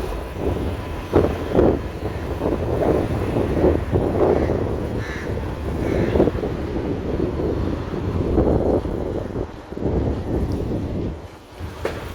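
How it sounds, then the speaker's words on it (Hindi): Strong cold wind buffets the microphone in a constant low roar outdoors at an early-morning food stall, while crows caw intermittently in the background. "बड़ी सख्त ठंडी हवा चल रही है"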